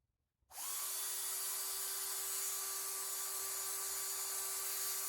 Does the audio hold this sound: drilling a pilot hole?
yes